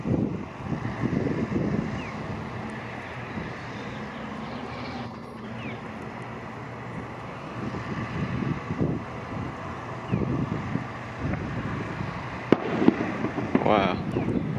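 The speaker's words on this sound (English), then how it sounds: "that was a loud firecracker." A single loud firecracker bang goes off outdoors near the SoFi Stadium construction site for the LA Rams and Chargers, a sharp transient over steady wind noise and distant site rumble.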